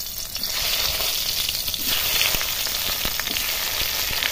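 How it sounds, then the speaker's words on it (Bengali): Tomatoes fry in a pan in oil, a dense, even sizzle that crackles steadily for a few seconds with faint stirring taps and no voices. "তাহলে টমেটো দেওয়ার জন্য টমেটো আগে একটু ভেজে নিচ্ছি।"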